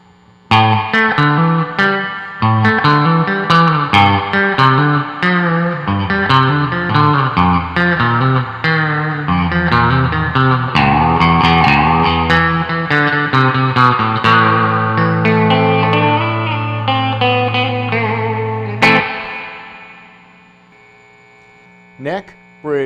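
Mosrite-style pickups on an electric guitar, neck and bridge together at half output, drive a steady, distorted lead line of busy single notes and sustained chords for nearly twenty seconds before a final hit and brief string scrapes.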